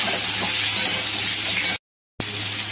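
Pointed gourd frying in refined oil gives a loud, steady close-up sizzle and hiss that cuts out briefly near the end, then resumes.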